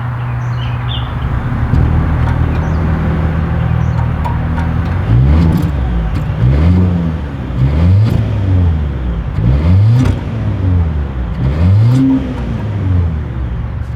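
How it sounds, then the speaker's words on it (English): Exhaust note of a 2026 Volvo XC90 SUV: steady idle hum, then a series of about six sharp revs rising and falling in regular rhythm, loud and close. "As always, here is that exhaust clip."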